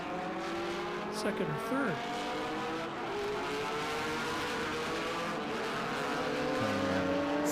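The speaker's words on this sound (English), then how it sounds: "PSSA cars are really going to whistle down through those S's, aren't they?" PSSA prototype race cars scream past at Sonoma Raceway, several engines overlapping in a steady high whine with shifting pitch sweeps as they pass, a commentator talking over the continuous racing noise throughout.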